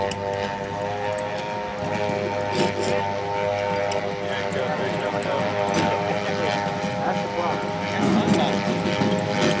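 Propeller warbird airplane landing at the Warbirds over Atlanta 2009 air show, a steady droning engine hum with crowd noise and announcer talk over it throughout.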